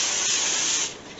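A short, steady hiss of cooking spray misted onto aluminum foil laid out for a slow cooker meatloaf, bright and close, fading slightly at the end.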